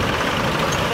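A tractor engine straining as it pulls a badly damaged tipper, a steady heavy rumble with broadband mechanical noise holding loud and constant through the whole second.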